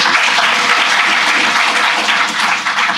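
Loud, sustained applause from a ceremony audience at the Shiva journalism awards in Gujarat, a dense steady clatter of many hands clapping that fills the whole stretch without a break.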